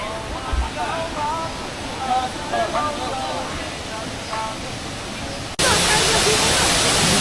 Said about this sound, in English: This here is the secondary waterfall.